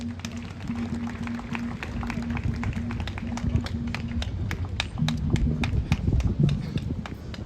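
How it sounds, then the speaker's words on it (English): Steady, brisk applause from an audience welcoming President Mahama, with a dense patter of many hands clapping over a murmur and a low hum throughout. "Shall we welcome His Excellency with a big round of applause?"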